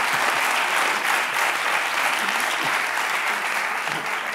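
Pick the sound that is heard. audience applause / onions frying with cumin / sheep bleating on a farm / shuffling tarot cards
audience applause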